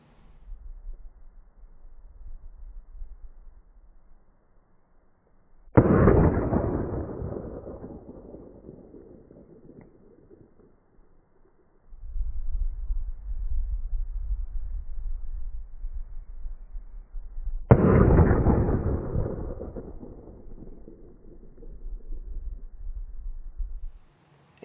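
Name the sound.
gunshots from .380 and 9mm pistols during ballistic testing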